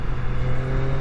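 A 2020 Triumph Street Triple RS 765 motorcycle engine held at a steady, loud, close drone with a strong low hum, no talk over it.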